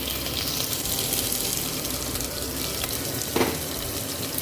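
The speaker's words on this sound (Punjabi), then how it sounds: "ਕੁੱਕਰ ਦੇ ਵਿੱਚ ਅਸੀਂ ਪਿਆਜ਼ ਪਾ ਰਹੇ ਹਾਂ ਜੀ" Onions fry in oil in a pressure cooker after a tempering of cumin and dried coriander, a steady broadband sizzle running throughout with a brief clatter near the end, no talking.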